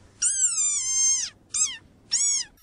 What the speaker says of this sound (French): un petit amphibien verdâtre bondissant qui se nourrissant d'insectes en faisant croix-croix